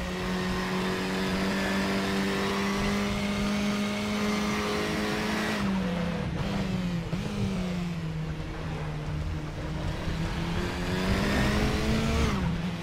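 A KTM X-BOW RR race car in the RaceRoom racing game at the Red Bull Ring, its engine droning loud and steady near 200 Hz, shifting pitch mid-lap as it lifts and accelerates again, with faint tire scrub and no talk.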